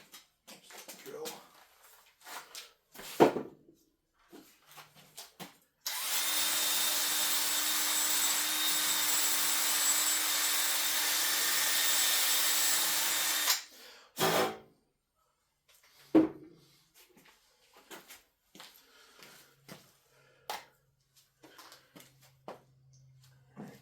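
A power drill runs in one loud, continuous whirring stretch of about eight seconds during work on replacing a 3/4-inch gas line trunk, surrounded by sparse clicks, knocks and handling noises before and after.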